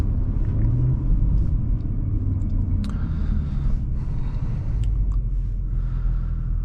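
A 2020 Audi S4 3.0T Premium Plus is on the move, its engine and tyres producing a continuous deep, steady road rumble that stays loud and even throughout, with no talking.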